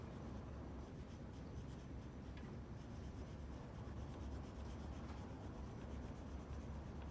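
A pencil shades lightly on paper in a steady, soft, continuous scratching rub, faint and close, with no talk.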